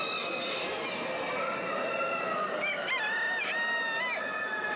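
Ornamental chickens at a Turkish poultry show or award gathering, roosters crowing repeatedly with clucking mixed into a dense, continuous chorus of many birds, loud and close with no talk.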